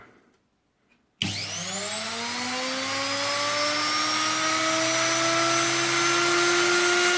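A washing machine motor (Mca 38 64 148 WHE 3), removed from the machine and wired up on its own, switches on after a brief silence and spins up with a loud, steady whine that climbs in pitch.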